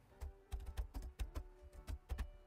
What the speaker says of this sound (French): Vous pourrez alors saisir maintenant au clavier le nouveau site internet